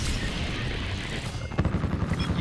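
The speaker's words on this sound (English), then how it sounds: "Attack chopper, go, go, go!" Attack helicopter in a jungle multiplayer shooter match: dense continuous rumble of rotor and gunfire, then a burst of rapid, close booming shots toward the end.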